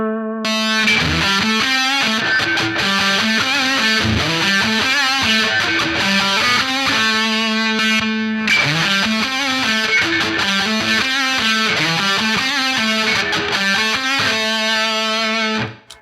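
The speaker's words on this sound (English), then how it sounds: "Let's max the distortion on both and see what happens." Maxed-out Boss DS-1 distortion pedals, a 1979 original and a Waza Craft version, drive a loud, sustained guitar riff with thick harmonic-rich chords and repeated phrases, briefly breaking near the middle before playing on to the end.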